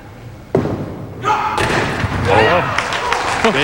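A five-pin bowling ball strikes the pins with a sharp thud, followed by pins clattering and scattering, then crowd noise and a commentator talking over the lane sounds.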